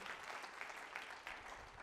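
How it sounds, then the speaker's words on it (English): At a business conference, an audience's brief burst of applause comes as a faint, even patter of many hands from a distance, with no talking over it. "Round of applause for Sam"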